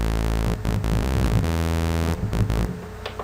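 The stock default patch of the Massive synth plugin plays as a loud, buzzy sustained tone with rich harmonics, changing pitch a few times with brief gaps, alone without talk.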